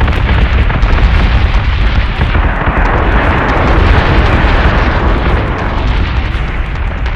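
Cannon fire and explosions in the space combat game Battlestar Galactica Deadlock, a dense, continuous roar of loud booming blasts and rumbling bursts with no pauses between them.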